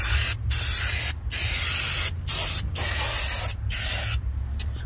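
Brake cleaner hisses from an aerosol can onto the front brakes of a 2015 Ford Escape, in a series of loud, close sprays broken by short gaps.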